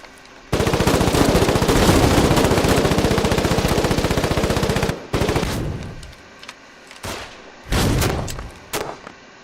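Mortars and gunfire in a video game: a long sustained burst of rapid automatic fire lasting several seconds, then heavy, separate, booming blasts and shorter volleys at irregular intervals, loud and close.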